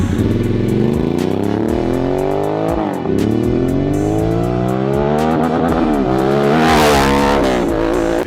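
A Harley-Davidson Sportster S motorcycle engine revs hard and close, its roar climbing through gears in rising sweeps, dropping briefly, then pulling up again loudly.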